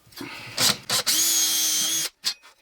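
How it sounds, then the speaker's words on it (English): A power drill bites into a large hard rock slab in short bursts, then runs in one long loud grinding stretch before stopping, followed by a brief final burst. "simply drill all your holes, a few of them."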